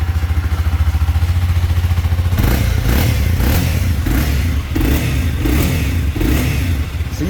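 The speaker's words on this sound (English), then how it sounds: "So you can see it's nice, quiet. It's revvy." Stock 2015 Honda CBR300R motorcycle engine idling with a steady close putter, then revved in a series of repeated throttle blips over the idle.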